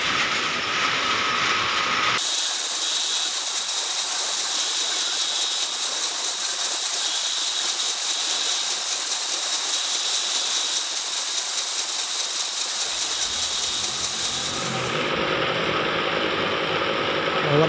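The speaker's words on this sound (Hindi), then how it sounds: "इसे ओवरलॉक किया जाता है। साइडों से जो धागे होते हैं उनके लिए सिलाई की जाती है" Overlock sewing machine stitching the thread edges along the sides of a bed sheet, a steady loud mechanical whir running continuously for most of the stretch, with a shift in pitch near the end.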